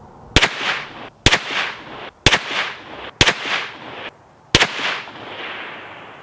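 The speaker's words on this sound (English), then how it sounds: "I'm shooting 124 grain gold dot because that's my zero ammo" An FN 509 T pistol fires 124 grain Gold Dot rounds at 25 yards. Five sharp, loud shots come at roughly one-second intervals, each followed by a short echoing decay.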